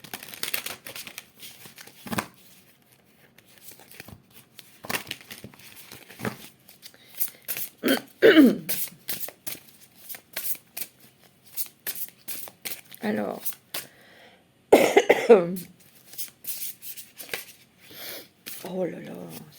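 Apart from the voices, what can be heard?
shuffling oracle cards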